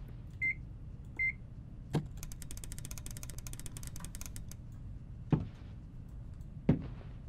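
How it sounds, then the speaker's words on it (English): A microwave oven in the game P.O.L.L.E.N. hums quietly while a pair of short beeps sounds early on, followed by a few sharp clunks like its door being handled, with no talk. "Anything in the microwave?"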